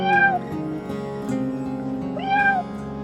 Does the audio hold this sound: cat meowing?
yes